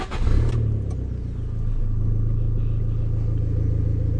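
An Abarth 500 engine, warm rather than cold-started, fires up with a sharp rev blip and then settles into a deep, steady, rumbling idle heard close up with no talking.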